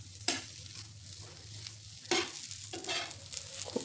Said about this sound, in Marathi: हे कारले त्यामध्ये मिक्स करायचे.